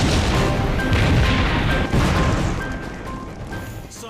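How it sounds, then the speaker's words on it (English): Loud, continuous roaring rumble of explosions aboard a burning ship at night, heavy low booms blending together, a faint steady tone running above. "Smaller explosions repeat throughout the night."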